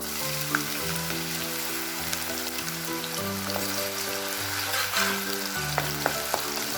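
Pirandai (veldt grape) sizzles and crackles steadily in hot oil, with occasional stirring clinks and a faint musical tone in the background.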